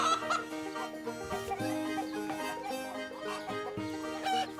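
Chickens cluck in a continuous, busy chorus with a musical backing, the bird calls bright and close in a cartoon farmyard setting.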